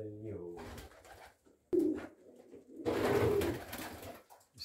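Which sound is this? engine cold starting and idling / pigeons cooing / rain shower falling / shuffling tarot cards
pigeons cooing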